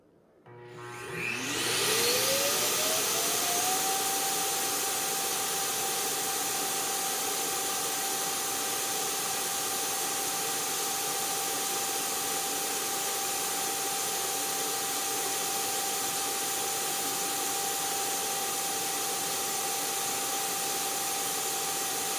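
The base station of an ILIFE T10s robot vacuum and mop starts emptying the dustbin. A rising whine quickly settles into a loud, steady rushing suction roar, close and sustained with no voices.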